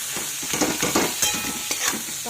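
Pieces of bhakri flatbread and coriander being stir-fried in a pan, with repeated scraping and tossing strokes of a spatula over a continuous close frying sizzle, no talking.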